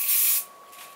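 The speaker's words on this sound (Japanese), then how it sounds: "結構距離を離してスプレーをしてあげないと" A can of Trie Fix Spray 8 hard hairspray sprayed onto styled hair from a distance: one close, loud hissing burst lasting under half a second, then a softer fading hiss.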